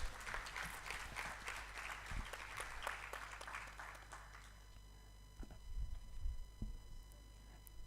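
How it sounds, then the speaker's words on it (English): Faint audience applause fills a sustainable-development education conference hall, a steady patter of clapping for several seconds that fades out into a quiet room with a few stray sounds. "A round of applause again."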